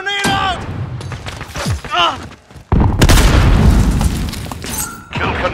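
A grenade blast booms in the video game Call of Duty Modern Warfare, a sudden loud burst with a long rumbling tail, set among other combat noises and short shouted voices.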